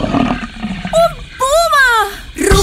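A singer's voice imitates a puma's roar in a Spanish children's song, giving two rising-and-falling roaring cries with a brief growl at the end, loud and close over a soft musical backing.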